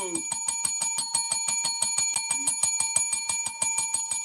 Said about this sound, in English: There's your alarm bell